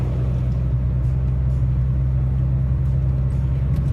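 The 1.9 CDTI diesel engine of an Opel Zafira B with a power-loss fault runs at a steady, loud low drone as the accelerator is pressed, an even rumble with little change in pitch and no voices.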